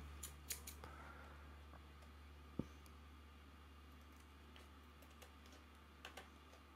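Quiet, scattered snips and clicks of scissors cutting along the glue line of a stiff plastic CGC graded comic book case, a few sharp cuts over a low steady hum.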